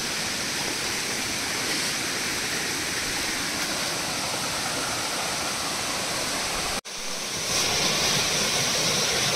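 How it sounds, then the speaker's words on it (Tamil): A mountain stream and a small waterfall on the Agasthiyar hill (Pothigai) trek rush in a loud, steady, continuous roar, with one brief dropout near the end before the flow resumes. "சலன்னு ஓடுற சத்தம், சின்னதாக ஒரு அருவி அப்படியே இருந்துக்கிட்டே இருக்குங்க"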